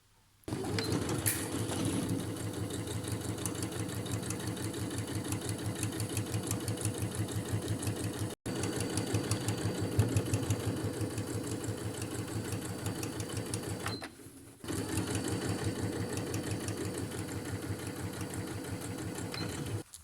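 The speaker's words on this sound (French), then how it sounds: "je vais coudre à 1 cm du bord, toute la partie en bas" A sewing machine stitches along the bottom edge of a fabric mask, its rapid mechanical needle rhythm running steadily with two brief pauses, loud and close with no talking.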